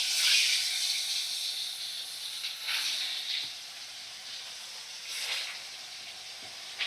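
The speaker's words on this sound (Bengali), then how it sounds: "তো প্রত্যেকটা মাছ আমি কড়ার মধ্যে দিয়ে দিচ্ছি" Fish pieces fry in hot white cooking oil in a wok with a steady close hiss and sizzle. Brief louder bursts flare up as the oil spits, and nobody speaks.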